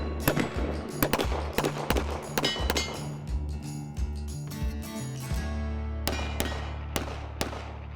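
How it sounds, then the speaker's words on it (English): Pistol shots ring out outdoors, a rapid irregular volley of sharp loud cracks followed by a few spaced single shots, with no talk. "I shot twice, I hit it."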